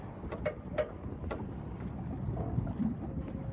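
Wind blows steadily around a sailboat during a sailing lesson, a low continuous rush with a few brief buffeting gusts early on, no talking.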